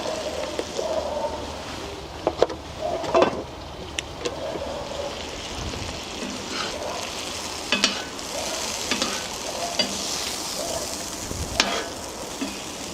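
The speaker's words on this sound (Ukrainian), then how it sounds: "Перемішуємо акуратно, щоб курочку нашу не шкодити." Chicken being stirred in cream sauce in a kazan, a soft bubbling sizzle with occasional scrapes and knocks of the spoon against the pot, fairly quiet and unhurried.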